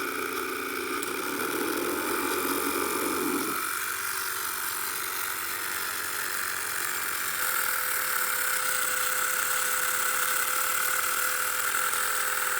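A small electric motor spins faster as its voltage is turned up, giving a steady whirring hum that shifts in pitch partway through and keeps running with no talk over it.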